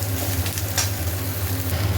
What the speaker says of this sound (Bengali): ফুলকপিগুলো দিয়ে দিয়েছি, এবার ভালো করে বেশ ভাজা ভাজা হোক, লাল লাল।